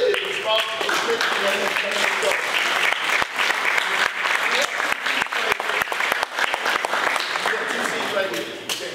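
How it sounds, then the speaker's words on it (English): A lecture audience at the Greenwood Culture Center in Tulsa breaks into loud, sustained applause with sharp individual claps standing out. A voice talks over the opening moments. "let's give Heather and Derek a big round of applause"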